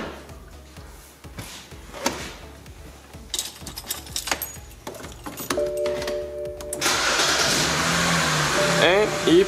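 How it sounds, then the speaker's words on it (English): A BMW 3 Series with a no-crank, no-start fault is started after the repair. Tonal chimes are followed by the engine catching and settling into a loud, close, steady running roar. "It fired right up with no problem, guys."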